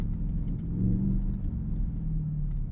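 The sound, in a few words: Ford F-150 Raptor R engine driving off-road through puddle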